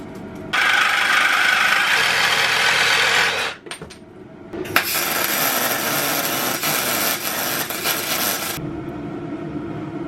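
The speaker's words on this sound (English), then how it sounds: "I just got some sheet aluminum that I'm going to cut up and bend into a circle." Sheet aluminum is cut with a power tool for a Datsun 521 project, two long loud harsh bursts of cutting separated by a brief pause with a few clanks, close up with no talking.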